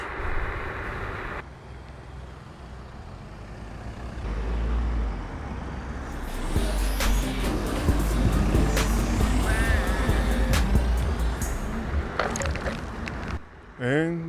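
Steady roar of road traffic with cars and trucks passing, heard from an electric scooter, a NAMI KLIMA, swelling louder midway with tonal whines, while someone talks over it.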